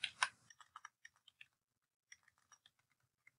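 Keys clatter on a computer keyboard in two short bursts of typing, quick irregular taps that are close and fairly quiet, separated by a brief pause.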